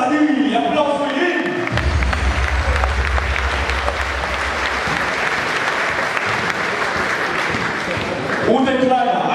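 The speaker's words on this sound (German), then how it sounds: "Applaus für ihn!" Loud crowd applause and cheering at a basketball dunk contest in Germany, dense and sustained throughout, with an announcer's voice at the start and end and low rumble underneath.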